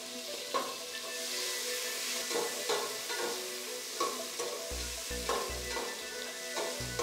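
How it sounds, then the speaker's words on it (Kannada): Onion roasting in a couple of spoons of oil for mutton keema ball curry, a soft continuous sizzle with periodic stirring scrapes and low thumps, fairly quiet and without voices. "ಆನಿಯನ್ನು ರೋಸ್ಟ್ ಮಾಡ್ಕೊಳ್ಳೋದಕ್ಕೆ 2 ಸ್ಪೂನು ಆಯಿಲ್ ಹಾಕ್ತಾ ಇದ್ದೀನಿ."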